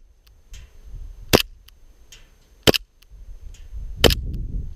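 A Norvitsch SSP-1 airsoft pistol fires three crisp, snappy shots at targets, spaced roughly a second and a half apart, with softer low rustling and handling noise between them.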